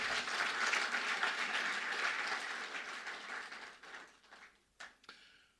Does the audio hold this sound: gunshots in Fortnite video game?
no